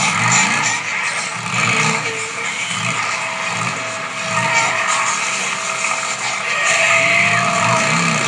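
A motorcycle in the video game Days Gone races away from a zombie horde, with loud continuous engine roar and skidding tires throughout.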